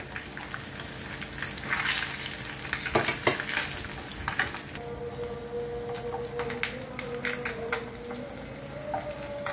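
Fried fish lifted one by one from hot oil in a pan, a continuous close sizzle and crackle with intermittent utensil scrapes and light clinks, with no talking.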